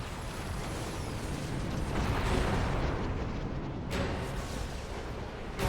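A rumbling explosion in a Xenoblade Chronicles 2 cutscene, a sustained broad roar lasting several seconds with a brief sharp burst near the end, with no talk.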